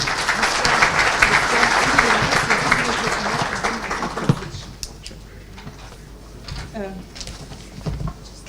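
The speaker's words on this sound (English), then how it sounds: "Please, let's welcome him with a round of applause" Audience applause greets the Afreximbank President at a trade forum opening, a dense sustained clapping for about four seconds that then drops away to a quiet room with scattered small sounds.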